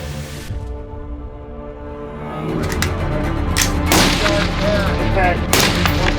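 A precision carbine rifle fires at a range, giving a few sharp broadband cracks over steady background noise, with a heavier stretch in the second half of the clip.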